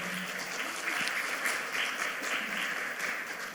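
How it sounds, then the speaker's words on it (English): Audience applause at a public talk on the American Dream and populism, a continuous even patter of many hands clapping, moderately quiet and distant, with no voices above it. "A round of applause for them."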